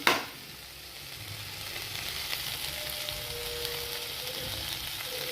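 Chopped tomatoes with turmeric powder and salt fry in a pan, a steady close sizzle with light stirring and a faint soft hiss throughout.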